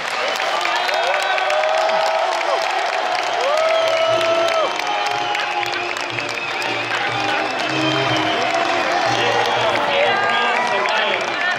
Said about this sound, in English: I want you to give a big round of applause for the team of France.